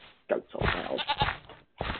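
Goats bleating in a video game, a couple of close, nasal, wavering cries lasting about a second each, with a short gap between them.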